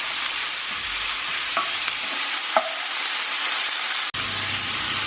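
Broccoli and bacon stir-fried in a pan just after a splash of rice wine, a loud steady sizzle with a few scrape-and-toss strokes and a brief clatter near the end, no voices.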